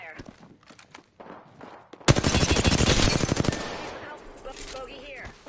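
Rapid automatic gunfire from a video game erupts loudly after a stretch of quieter talk, a dense burst of shots lasting over a second before tapering off, with a voice speaking around it.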